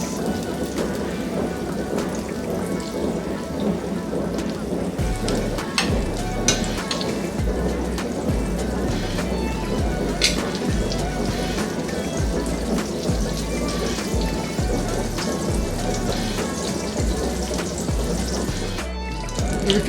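About four cubes of butter melt in a frying pan for garlic eggs, giving off a steady, loud, crackling hiss that continues without a break.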